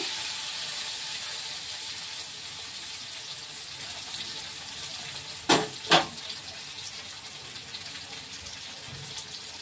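Pieces of boiled elephant foot yam frying in plenty of oil, a continuous bright hiss and crackle throughout, with two sharp clatters near the middle.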